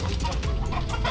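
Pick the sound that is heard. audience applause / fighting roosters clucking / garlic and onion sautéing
fighting roosters clucking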